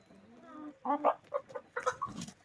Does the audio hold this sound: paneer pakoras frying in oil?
no